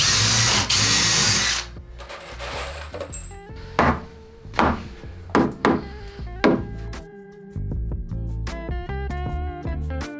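A power drill drives screws into garage wall studs, opening with a loud sustained whir, then several short punchy bursts of the motor, ending in a steadier run.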